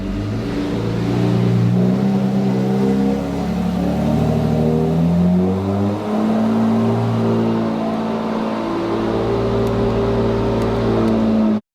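A Porsche 911 GT3 RS that had been flood-damaged, with traction control switched off, revs and pulls away in a loud, close engine drone that wavers in pitch before cutting off abruptly.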